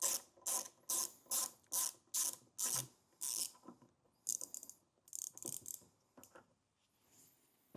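A ratchet fitted with a T20 Torx bit clicks steadily, removing screws on a 2024 Audi Q5: quick, regular pawl ratcheting, fairly faint and close, that turns into looser, uneven clicks toward the end.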